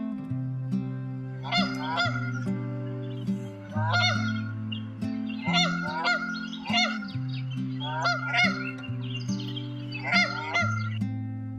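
Geese honk repeatedly in loose nasal bursts, close and fairly loud, over a continuous low drone, at Tule Ponds at Tyson's Lagoon.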